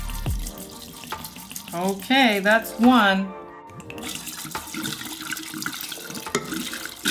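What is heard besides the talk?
pouring shochu into a jar for plum wine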